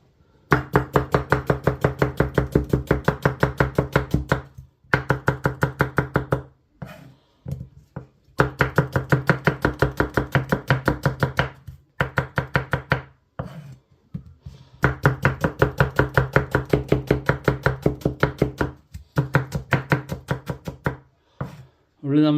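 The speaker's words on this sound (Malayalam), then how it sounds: "അടുത്ത് ഇനി ഉള്ളിയൊക്കെ ഒന്ന് കട്ട് ചെയ്യാം ചില്ലി ചിക്കൻ വേണ്ടിയിട്ടുള്ള" A knife chops onions on a board for chilli chicken in a home kitchen: rapid, loud, evenly paced cutting strokes close by, in long runs separated by short pauses.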